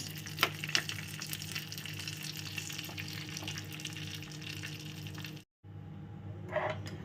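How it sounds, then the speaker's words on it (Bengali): Cashews and raisins fry in ghee for a birthday payesh, giving a steady close sizzle with stirring scrapes and a brief break in the middle. "আমি সবসময় একটু ঘিয়েতে ভেজে নিই কাজু আর কিশমিশ"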